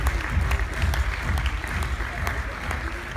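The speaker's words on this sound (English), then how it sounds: "give Mr. Vaswani a generous round of applause" Audience applause at the Indian CEO Awards 2016 as a Lifetime Achievement Award winner comes on stage, steady dense clapping with a low booming undertone, continuous and fairly loud throughout.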